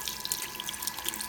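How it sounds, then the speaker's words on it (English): Hot water runs steadily from a tap into a sink to wash stonewashed titanium knife scales from a Sebenza 21 with dish soap, a close, continuous splashing hiss with faint drips. "so some dishwashing soap and some hot water"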